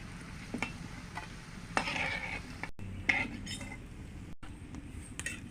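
Kachu flower fritters (bora) frying in a pan, with a steady close sizzle under repeated spatula scrapes and metallic clinks against the pan, plus a few sharper knocks.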